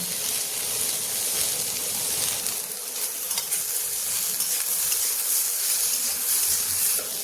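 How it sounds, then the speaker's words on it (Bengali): Onions with turmeric and salt fry on low heat in an open pan, giving a steady, close sizzle and hiss that carries on evenly throughout without talking. "এই যে পেঁয়াজ দিয়েছি, এখন ঢাকনা বন্ধ করবো না, এমনি একটু কম আঁচ করে ভাজবো।"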